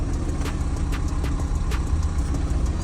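A 2009 BMW 320d Touring diesel engine idles just after starting, with a steady, close, low rumble and a few faint clicks on top.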